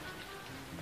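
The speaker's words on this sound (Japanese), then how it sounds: "ま、大雨だぞ。" Heavy rain falling steadily on surfaces, a dense continuous wash of patter at moderate level with no voices.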